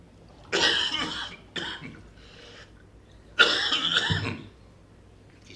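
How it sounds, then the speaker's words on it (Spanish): Several harsh coughs in separate bursts from a speaker at a conference presentation, the last one longer and rougher, close to the listener. "no les voy a dar a ustedes un concierto de toses esta tarde"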